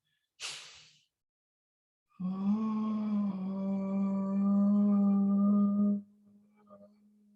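A quick sharp inhale followed by a pause, then a long, strained, buzzing exhale through an open mouth with a constricted epiglottis, holding a steady low tone.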